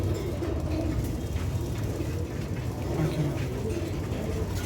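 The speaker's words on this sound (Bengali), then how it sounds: "পাঙ্কি মাদি কবুতর" Pigeons at a pigeon farm coo in low, repeated throaty calls, close and fairly loud over a steady background rumble.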